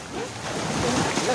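Strong sea waves surge and wash in a continuous broadband roar with wind buffeting the microphone, while faint voices sit low underneath.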